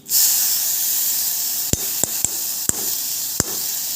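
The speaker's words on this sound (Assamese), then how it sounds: "কেৰাহীত গৰম কৰি লৈছোঁ, ইয়াতে ধুই থোৱা তিলখিনি দি দিম।" Washed, wet sesame seeds sizzle in a hot wok with a loud, steady hiss filling the whole stretch, broken by a few sharp pops and crackles at irregular moments.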